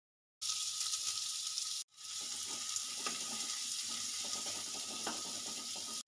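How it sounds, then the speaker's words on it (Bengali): Chopped onion fries in mustard oil in a wok with a steady, fairly quiet hiss and crackle, broken by one brief gap. "আমি পেঁয়াজটা ব্রাউন কালার বানাবো না, হালকাভাবে আমি ভেজে নেব।"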